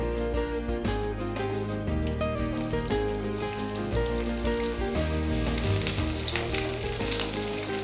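Petaled onions crackle and sizzle steadily in hot oil in a home kitchen, a continuous frying hiss under a layer of background music.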